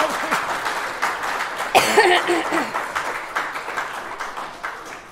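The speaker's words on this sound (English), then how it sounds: "give Mr. Morris a round of applause" An audience at a school sixth form prize-giving claps in a loose, moderate patter, with a cough and a brief voice standing out partway through.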